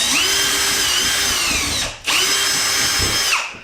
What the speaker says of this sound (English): Just screwing some screws into a piece of wood